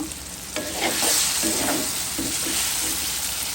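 Prawns with ginger sizzle in a pan and are stirred, close and steady, with soft scraping strokes of a utensil sounding over the frying. The dish is made with Malabar spinach and there is no talk.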